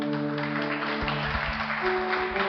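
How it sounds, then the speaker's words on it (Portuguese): A church congregation applauds in a reverberant hall, with continuous clapping heard over a sustained organ or keyboard chord. "Vamos aplaudir a Jesus."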